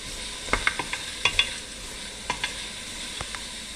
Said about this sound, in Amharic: ድስት ላይ አድርገን ለተወሰነ ደቂቃ እናበስለዋለን